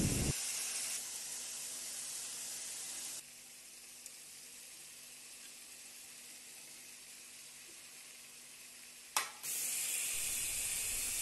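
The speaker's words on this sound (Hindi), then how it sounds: "अब मैं इसमें बारीक कटे हुए पत्ते गोभी, शिमला मिर्च, बीटरूट और गाजर को डाल के अच्छी तरह से फ्राई करेंगे।" Finely chopped cabbage, capsicum, beetroot and carrot stir-fry for a vegetable chow mein, giving a steady broadband sizzle and hiss throughout, louder at the start and end. A sharp clatter comes near the end, and no one speaks.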